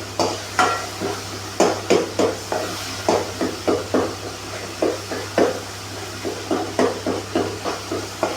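Tomatoes sautéing in a pan for a quick thick kurma, heard as a steady run of close stirring scrapes and soft sizzle, repeated every half second or so over a low constant hum, with no voices.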